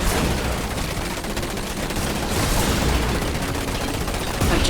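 Dense, continuous gunfire and battle noise from the Command & Conquer 3: Tiberium Wars tutorial, loud and sustained, with a spoken line briefly over the combat.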